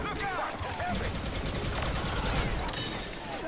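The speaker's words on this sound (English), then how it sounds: "Eat my machine gun, boy." Machine gun fire in the Star Wars: Operation Resurrection video game, a dense rattling barrage of rapid shots that runs steadily through the whole clip at high volume, with game voices and effects mixed underneath.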